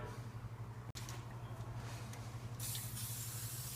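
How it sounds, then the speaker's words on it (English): A steady aerosol spray of WD-40 onto glass hisses for several seconds, close and fairly quiet, with a brief gap early on before the spray resumes slightly louder. "you just spray the glass with some WD just to help the paper stick"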